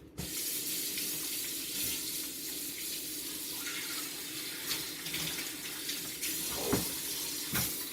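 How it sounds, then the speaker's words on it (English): Tap water runs steadily into a kitchen sink while a blender container with sweet potato residue is rinsed out, a constant broadband gush with a few brief splashes and clinks near the end, no talking. "I am going to rinse this out because it has sweet potatoes on it"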